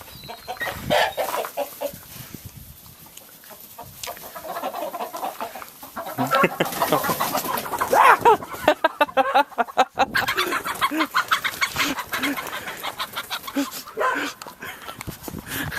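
Chickens cluck and squawk close by in a busy, irregular chorus, joined by a barking dog and occasional voices.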